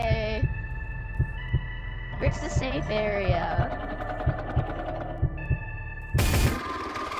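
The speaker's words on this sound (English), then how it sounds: "I'm doing the heartbeat." Video game heartbeat sound effect, a regular low thumping pulse over a steady droning hum, repeating throughout while players talk excitedly over it.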